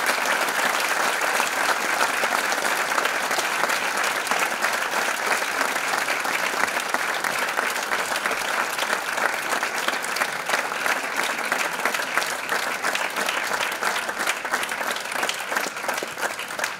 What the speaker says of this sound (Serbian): Molimo vas da ih sve pozdravimo jednim velikim aplauzom.